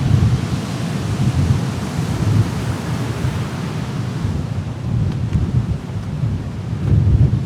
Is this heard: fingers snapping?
no